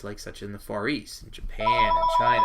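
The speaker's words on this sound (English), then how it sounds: "that's a phone that's ringing" A telephone rings with a steady electronic tone partway through, sounding close and clear over a lecturer's ongoing speech.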